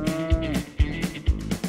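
Cattle on a Wyoming ranch low in several loud, close moos, one after another in short repeated calls.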